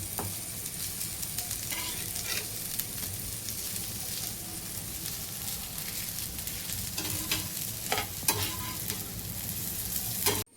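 Patrode, colocasia leaf rolls of the Tulu Nadu region, fry steadily in a pan with a continuous sizzle, while occasional scrapes and stirs sound as the rolls are turned. No voices are heard.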